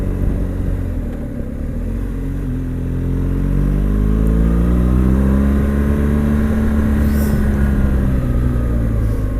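Car engine revving hard on a tight, twisty Exmoor road, a loud continuous drone with rising and falling pitch sweeps as gears and revs change, close and steady throughout.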